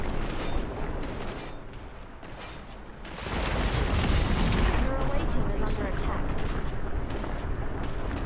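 Frag grenade explosion in the video game Cepheus Protocol: a loud, broad blast bursts in partway through and rolls on as sustained rumble, mixed with gunfire-like crackle and a voice in the background.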